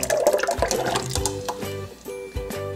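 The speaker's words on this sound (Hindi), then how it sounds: "कोकोनट मिल्क डाल दें" Coconut milk poured into a juicer, a short, fairly loud liquid gush with gurgling splashes, close up and over soft background music.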